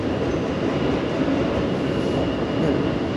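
A Paris Metro train at an underground station on the RATP network, near line 1, gives a steady, loud rumble of rolling stock with a faint high whine running through it. The noise continues without a break and no one speaks.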